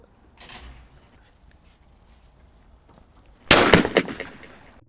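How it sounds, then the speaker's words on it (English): A single loud shotgun blast at a skeet clay target rings out sharply about two-thirds of the way through, after quiet outdoor ambience with a brief earlier noise. "So I see the target, it gets to the gun, as soon as it gets there, I shoot."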